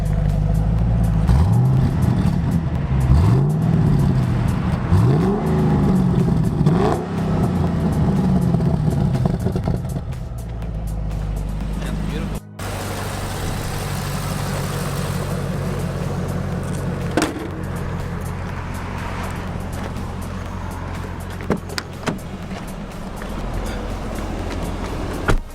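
A Holden HSV VE Maloo ute's LS3 V8 with a Walkinshaw induction kit revs repeatedly with a throaty induction roar, rising and falling in pitch, then settles into a steady loud drone close by.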